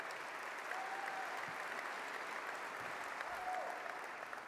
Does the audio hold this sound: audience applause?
yes